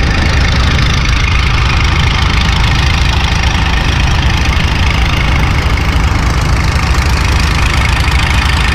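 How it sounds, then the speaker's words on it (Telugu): Heavy motors pump water through a large pipeline at a building construction site, giving a steady, loud, continuous droning hum with a broad mechanical rumble and no pauses. "ఇక్కడ మనం గమనిస్తే భారీ మోటార్ సహాయంతో వాటర్ని అయితే పంపింగ్ జరుగుతుంది"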